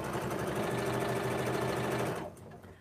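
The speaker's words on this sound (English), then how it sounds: "So chain stitching them is just picking them up one after the other and not stopping." A sewing machine whirs in one continuous, loud, close run as small fabric patches are chain stitched one after another without stopping, then cuts off abruptly near the end.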